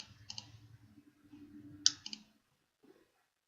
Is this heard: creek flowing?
no